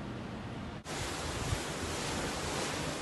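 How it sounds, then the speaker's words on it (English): Ocean waves crash at night on the shore at Cozumel, Mexico, heard as a broad steady roar of surf with wind noise on the microphone, close and continuous after a brief dip. "Y'all can hear the waves crashing."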